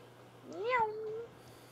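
A person imitates a cat's meow once: a single short, clear meow during a sword-match game session.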